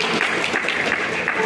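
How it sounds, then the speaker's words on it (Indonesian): Applause for parents at a school graduation and farewell ceremony, a broad, continuous clatter of many hands clapping close and fairly loud, with faint voices mixed underneath. "Tepuk tangan untuk ibu kita."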